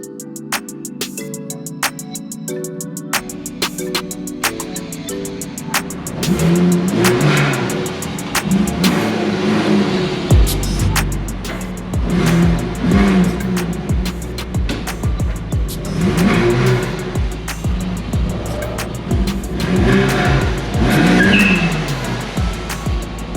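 A Porsche Boxster S 986, a rebuilt salvage car, starts and then revs and drives off outdoors, its flat-six rising and falling through several throttle blips, close and loud for about twenty seconds with no voices.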